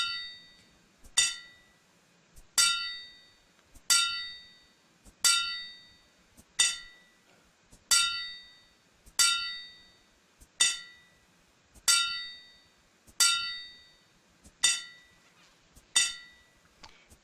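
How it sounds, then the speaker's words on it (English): A hammer in the video game Ylands strikes an object about a dozen times at an even, unhurried pace, each hit a bright ringing clank that fades before the next, with no talking. "try our hammer"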